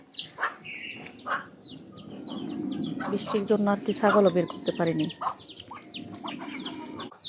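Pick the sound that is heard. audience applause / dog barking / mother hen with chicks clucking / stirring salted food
mother hen with chicks clucking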